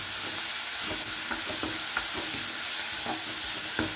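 Onions sizzle steadily in a hot pan while a spoon stirs them, with soft scraping taps against the metal over a continuous frying hiss.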